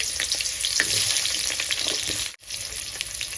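Sliced potato sticks fry in hot mustard oil in a wok, a loud, steady crackling sizzle filling the space, with one brief dropout near the end.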